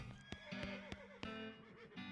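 A horse neighs in the West of Loathing video game, a short whinnying call with a few sharp, plucked-sounding accents over a light musical backing, fairly quiet and with no talk.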